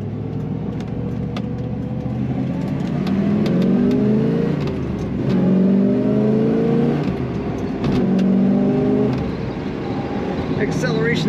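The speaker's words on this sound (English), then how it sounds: "And throttle response very good in this car" A 1968 Chevrolet Corvette engine with a 4-speed manual revs repeatedly, rising and falling in pitch in several strong surges, loud and close, with a few clicks in between.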